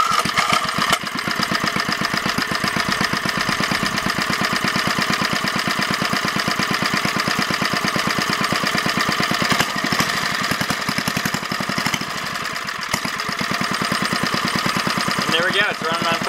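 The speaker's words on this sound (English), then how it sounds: "And there we go, it's running on propane." A Briggs and Stratton 60102 small engine converted to run on propane runs steadily at close range, with a loud, continuous rapid firing rhythm throughout and brief voices in the background.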